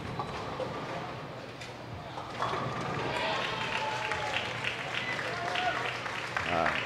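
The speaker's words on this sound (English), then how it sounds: "The eruption that you hear from the crowd there in the background" A crowd cheering in the background at a women's bowling World Cup tournament, a distant swelling roar with applause, heard under a commentator's voice.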